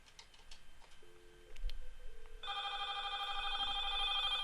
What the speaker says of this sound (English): Well, the phone rings, but you didn't see much action.